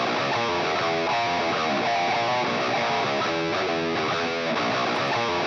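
Electric guitar miked with a 57 and run through EQ during a studio mix, playing a dense, sustained, driven part that fills the whole clip at a steady loud level before cutting off abruptly.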